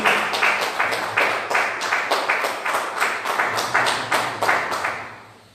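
A church congregation claps in a rhythmic, steady beat, a series of loud, evenly spaced group claps repeating about twice per second before fading out at the end.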